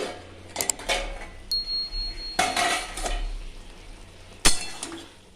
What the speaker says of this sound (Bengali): এবার আমি ঢাকাটা খুলে দেখি কেমন হলো।